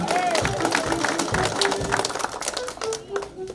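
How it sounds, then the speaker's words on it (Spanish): Guests clap for someone at a family birthday party, scattered, uneven applause with nearby voices and chatter running over it before it thins out. "¿Dónde están las palmas para Víctor?"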